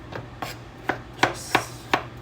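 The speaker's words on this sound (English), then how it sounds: "I'm just rough chop." A knife rough-chops vegetables for beef and barley soup, six sharp, close cuts landing on the board at an uneven, unhurried pace with no talking.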